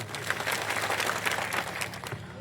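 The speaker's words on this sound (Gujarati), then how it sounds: "તમામ લોકો માટે પણ એકવાર જોરદાર તાળીઓ પાડલો" A crowd at a political rally breaks into steady, dense applause, a continuous wash of clapping that holds at an even level for the whole stretch.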